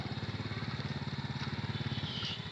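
A motorcycle engine runs steadily during riding practice, its close, rhythmic putter pulsing evenly throughout, with a faint voice or two in the background.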